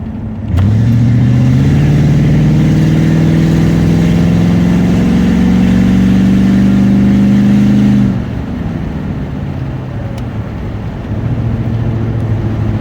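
A high-mileage OBS Ford pickup truck engine revs up loudly and holds a steady climbing roar for several seconds, then drops back to a lower idle-like rumble before a second lighter rev near the end; no talking.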